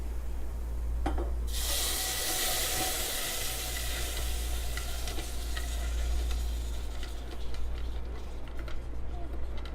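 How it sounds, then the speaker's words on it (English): Caramel bites and heavy cream tipped into a pot, a broad rushing, sizzling pour that starts suddenly and runs steadily under a low constant hum, with faint stirring clicks scattered through. "let's pour in the caramel bites, or put in your squares and the heavy cream."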